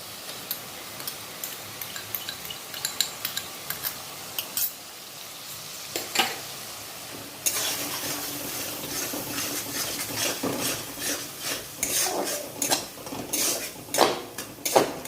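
A paste of cashew, melon seed and poppy seed sautés in a pan for a mixed vegetable paneer dish. A spoon scrapes and knocks against the pan again and again over a faint sizzle, and the stirring grows busier partway through.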